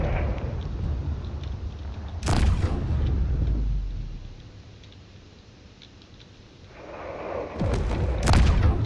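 Heavy booming cannon blasts in a game, two loud shots separated by a rumbling lull, over a constant dense background roar.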